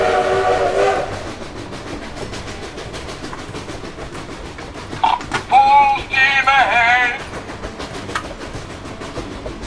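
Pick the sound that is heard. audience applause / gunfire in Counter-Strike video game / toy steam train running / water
toy steam train running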